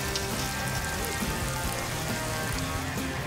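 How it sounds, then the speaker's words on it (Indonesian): Spices and bay leaves sizzle steadily in hot oil while being sautéed for a North Sumatran fish dish, a continuous close crackle and hiss without pauses. "Lalu daun salam. Kita tumis lagi sampai semua aromanya keluar."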